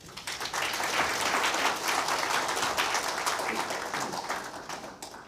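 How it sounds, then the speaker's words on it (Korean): A debate forum audience applauds continuously to welcome the Saenuri Party leader, the dense clapping holding steady and fairly near for about five seconds before easing slightly at the end. "이 대표 박수로 환영해 주시기 바랍니다."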